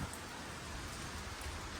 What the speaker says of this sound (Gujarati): આજે પાછો વરસાદ છે